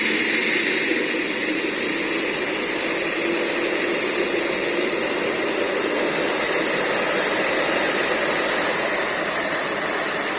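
A cheap eBay Pelton micro hydro turbine spins up under a steady, loud rush of water, with leaking spray adding a constant hiss throughout.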